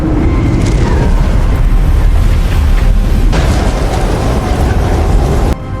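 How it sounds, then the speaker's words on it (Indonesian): A big missile explosion in an action film: a loud, sustained roaring blast with deep rumble and crackling debris that carries on for several seconds, then cuts off abruptly near the end. "Namun sesaat kemudian rudal tersebut kembali bergerak dan meledak hebat tepat di hadapannya."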